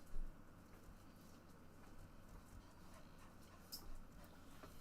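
A small dog whimpers faintly indoors, giving a couple of soft, brief whines over a quiet room hum, near but very low in level.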